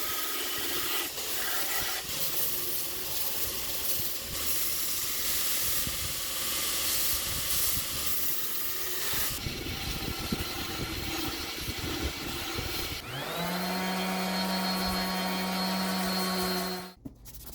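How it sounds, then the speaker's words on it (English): A polishing belt loaded with blue compound works a knife handle, giving a loud continuous whirring hiss that shifts texture partway through and ends in a steady motor hum before cutting off. "Here I'm using a blue compound and a polishing belt just to polish up the handle."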